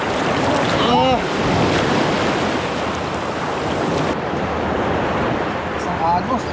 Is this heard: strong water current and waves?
yes